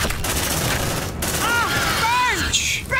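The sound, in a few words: gunfire and grenade explosion in video game Aliens: Dark Descent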